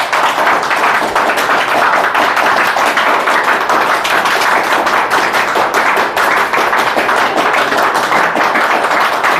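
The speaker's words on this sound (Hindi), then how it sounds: "कुछ बच्चे जो भागीदार हैं ताली बजाओ एक बार।" A large group of students claps steadily and densely at a challenge-completion celebration, a continuous wash of applause without pause from start to finish.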